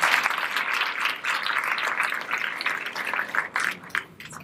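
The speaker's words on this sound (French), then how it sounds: "je pense qu'on peut les applaudir avant qu'ils commencent." A conference audience claps to welcome two speakers. The brisk, crackling applause is moderately loud at first, then thins into scattered claps that fade toward the end.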